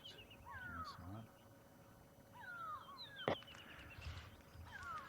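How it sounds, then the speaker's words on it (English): Birds give repeated harsh, scratchy alarm calls at a moderate distance at Ngala Private Game Reserve in the morning, with a sharp knock partway through over quiet outdoor background. "Those birds sound to me like they're alarm calling slightly"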